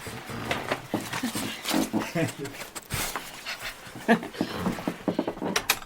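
A Yorkshire Terrier rescue dog pants quickly and rhythmically nearby, with small whimpers mixed in, under cheerful conversation between people.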